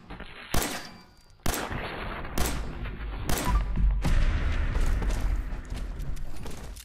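Pistol shots from a 10mm handgun in the video game Fallout 4 ring out as several sharp, loud reports spaced about a second apart, then give way to denser gunfire and continuous battle noise.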